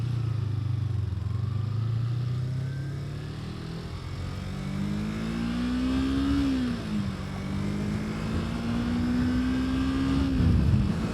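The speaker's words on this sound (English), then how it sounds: "Choke is out and we are idling." A Kawasaki Ninja 250 with a carbureted engine runs on choke in winter, a steady, moderately loud engine hum whose pitch rises and dips slightly, with no talk.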